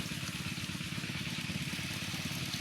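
An engine-driven water pump runs in a rice paddy with a continuous mid-pitched mechanical chugging and rattling, steady and fairly close, with no voices.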